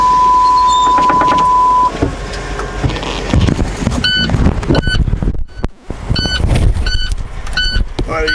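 Inside a truck cab, a warning for low air pressure sounds as a repeated electronic beep in short regular pulses, heard over engine rumble and wind noise, with a brief voice in the cab.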